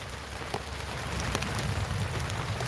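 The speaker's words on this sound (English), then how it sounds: "the rain is coming down" Rain falls steadily outdoors, a dense, even hiss of drops on surfaces that stays close and constant throughout, with no voices.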